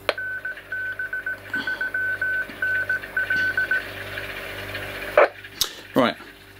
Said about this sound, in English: That was a repeater ident